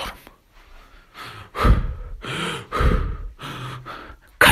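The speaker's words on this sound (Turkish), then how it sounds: "Nefes alıyorum." Deep, heavy breaths drawn in and pushed out in a slow uneven rhythm, with sharp gasping inhales and sighing exhales, close and loud with no talking.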